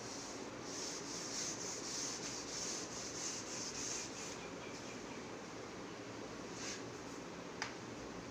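Writing is rubbed off a classroom board in quick, rhythmic scrubbing strokes that are close and steady at first, then thin out, ending with a small tap.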